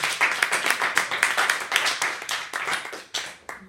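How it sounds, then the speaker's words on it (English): Participants in a songwriting masterclass at Ball State University clap for themselves, a lively room of hands with distinct sharp claps standing out in a quick, slightly uneven rhythm that thins out near the end. "So applaud yourselves"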